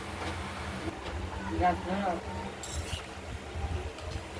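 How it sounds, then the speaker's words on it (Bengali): A lid lifted off a pot of simmering catla fish curry with potatoes and tomatoes, marked by a brief, faint metallic clink amid background murmur and light kitchen clatter. "এবার ঢাকনাটি খুলে দেখে নিচ্ছি"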